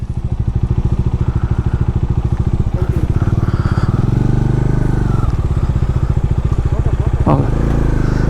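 A motorcycle engine runs loud and close with a rapid, even putter throughout, briefly revving near the end, on a road through Bandipur Tiger Reserve forest.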